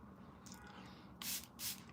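Two short hissing bursts from a spray bottle misting hair during a makeup and hair styling session, each about a quarter second, close and fairly loud over a low background hum.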